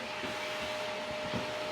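A household vacuum cleaner runs with a steady, even whooshing hum and no pauses, at moderate volume with no voices.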